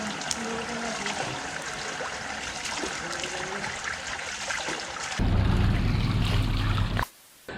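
Water splashes and trickles steadily as a person rinses their face during ablution, a continuous close wash that grows louder and heavier near the end before cutting off abruptly.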